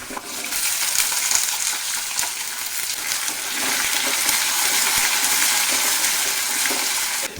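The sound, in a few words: shallots sautéing in oil in a pan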